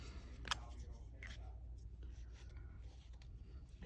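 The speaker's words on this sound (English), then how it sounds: "I'm going to write this in black pen." Black pen writing on a paper journal page, a few short scratchy strokes with one sharper tap near the start, close and quiet over a steady low background hum.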